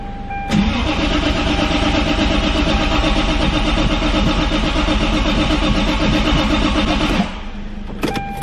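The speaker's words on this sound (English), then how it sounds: "So I'm gonna let the car run here for a second" Toyota Supra single turbo engine running, heard up close from inside the engine bay: a loud, steady mechanical drone that holds for several seconds, then drops off sharply near the end.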